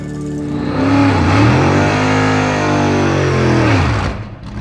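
Blasphemi, a 1955 Chevy drag car, revs its engine loud and close at the staging lanes, a rising, rumbling roar with shifting pitch that holds steady for several seconds before dropping off.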